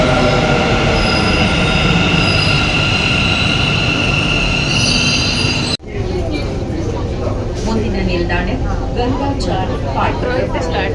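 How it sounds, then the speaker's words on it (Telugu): A metro train roars loudly through a station in Whitefield, Bangalore, with squealing wheels and a steady rumble, then an abrupt cut to quieter carriage noise with voices. "ఇప్పుడు ప్రస్తుతానికి మెట్రో స్టేషన్కి వచ్చున్నాము"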